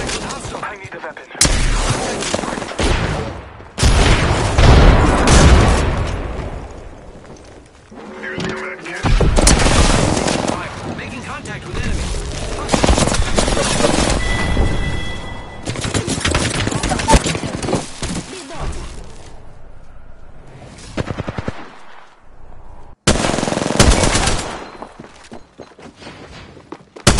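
Gunfire in the video game Apex Legends: loud, close bursts of rapid automatic shots and single cracks come in clusters separated by brief lulls, with game voice lines heard between volleys.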